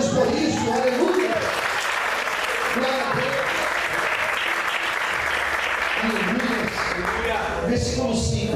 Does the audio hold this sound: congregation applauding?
yes